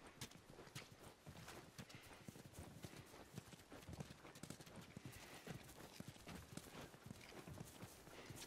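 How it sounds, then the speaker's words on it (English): Horses in The Last of Us walk with steady clip-clop hoofbeats and occasional whinnies, set against busy outdoor background noise. "You guys have horses."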